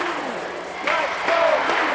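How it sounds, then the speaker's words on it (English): Indoor soccer crowd at Wing Stadium for Kalamazoo Kangaroos vs Milwaukee Wave, a steady roar of voices that swells louder midway, with scattered shouts and a brief whistle-like tone over the din. "And ringing out with the crowds chanting,"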